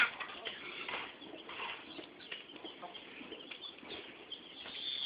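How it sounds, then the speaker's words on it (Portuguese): A goose calls out in short, repeated clucking and cooing bursts at moderate volume, with a faint voice in the background. "Esse ganso tá dando um olé"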